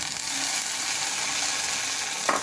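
Chopped tomato fries in a pan for a carrot dhoka recipe, a dense continuous sizzle with the soft scrape of stirring and a brief louder scrape near the end, close and steady with no talk.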